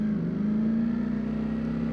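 A 2024 Ducati Streetfighter V4S motorcycle engine running steadily as a ride begins, a low, even drone with a strong, constant tone and no voices.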